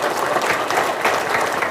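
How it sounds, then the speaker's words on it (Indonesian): A seminar audience bursts into brief, lively clapping: a dense patter of many hands at steady loudness across under two seconds, with no voices over it. "Tepuk tangan buat kita semua ya."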